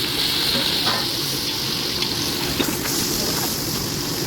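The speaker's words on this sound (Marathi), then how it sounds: "त्याच्यामध्ये कढीपत्ता लसूण आणि कांदा टाकला." Curry leaves, garlic and onion fry in a pan, producing a loud, continuous sizzling hiss up close with only slight swells throughout.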